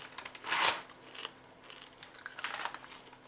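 Close, crisp crunching of Kashi Go Lean Crunch cinnamon cereal clusters being chewed, one loud bite burst followed by quieter, irregular chewing crackles, with no talking.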